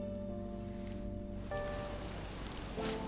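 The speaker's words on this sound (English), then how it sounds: "I mean, it's raining out" Soft, constant rain hiss in the video game Persona 5 Royal fills the background beneath a gentle melodic tune with sustained notes.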